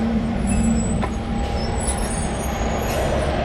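City buses in traffic in Xi'an, a heavy engine rumble with a hissing air-brake release and a sustained tonal whine, dense and close throughout.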